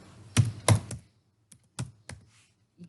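Keys clatter on a computer keyboard in short bursts of taps, a quick cluster early on and then a few scattered, sparser keystrokes, close and fairly clear in an otherwise quiet room.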